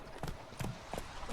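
Roach, the horse from The Witcher 3, moves along in a few distinct hoof thuds spaced evenly across a short moment, close and moderately loud with game ambience underneath.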